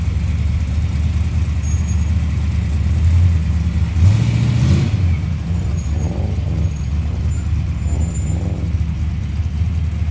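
Ford Cortina engine revving among tuner cars at a night car meet in Sydney, a deep throaty engine rumble with a short rising rev burst in the middle, fairly loud and close, amid background crowd murmur.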